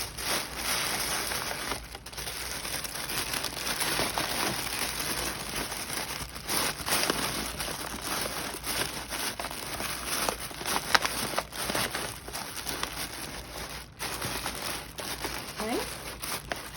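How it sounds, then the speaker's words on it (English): Tissue paper being folded and crinkled on top of items in a mail package, continuous close rustling and crackling with occasional louder crinkles and brief pauses. "I'm going to fold up another piece of tissue paper to set on top."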